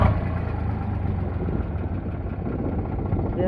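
A 2014 Eicher 368 tractor engine idles steadily nearby, a low, even rumble with a continuous mechanical throb and no voices over it.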